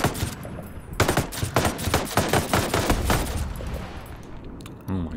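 An MK48 Compact machine gun firing unsuppressed in Ghost Recon Breakpoint lets off loud, close, rapid bursts of automatic fire that run almost continuously, then briefly pause near the end.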